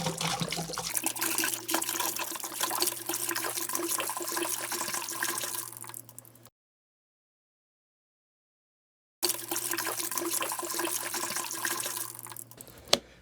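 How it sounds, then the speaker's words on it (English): Margarita mix gushes from a bottle with its pour spout popped off, a steady splashing liquid stream running for several seconds, stopping, then resuming for a second long pour, with no talking over it. "You pop that pour spout, it comes out a whole lot faster."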